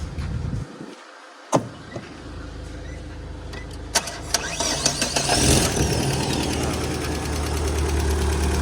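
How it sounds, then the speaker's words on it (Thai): A Tata vehicle engine cranks with a sharp click and sputter, then catches and settles into a steady, loud idle with a rough mechanical rattle. "ลองมาฟังเสียงเครื่องกันนะครับ"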